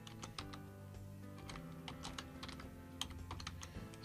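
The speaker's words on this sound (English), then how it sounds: "So I can type in the year and give it a document title." Typing on a computer keyboard while setting up a Word document cover page, with quick, irregular clusters of close key clicks over a steady low background hum.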